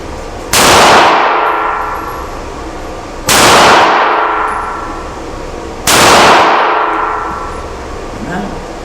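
Three loud, ringing metallic clangs of bullets striking a steel target at a range while a gun is sighted in, each hit a sharp impact with a long decaying ring, spaced about three seconds apart, with no talk.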